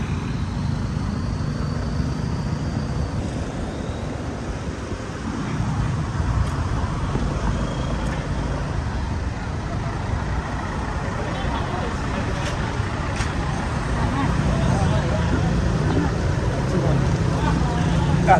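Road traffic passing on a busy highway, a steady broadband roar of vehicles rolling by throughout, fairly close and continuous, with people talking faintly over it.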